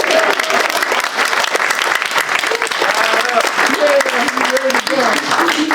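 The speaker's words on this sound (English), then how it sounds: "Round of applause for Reverend Ray." An audience at a White Cane Awareness Day event claps for a speaker, strong continuous applause with some voices talking over it.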